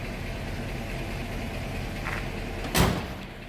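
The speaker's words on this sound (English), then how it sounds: "See how nicely the door closes." A car door shuts on a 1960 Chevrolet Impala 348 Tri-Power convertible, one short solid thud near the end over a faint low background hum.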